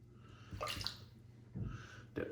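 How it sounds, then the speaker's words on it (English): Short splashes and trickles of water poured in a few bursts into a shaving lather bowl, close and fairly quiet, with soft wet swishing between them. "So we're going to keep adding water to this."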